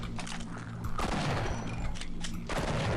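Shotgun blasts in a first-person shooter level fight with soldiers, loud dense gunfire bursts and booms packed together over a busy, continuous game soundscape with no talking.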